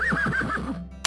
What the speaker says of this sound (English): sit and listen to the horses calling to each other out on the dam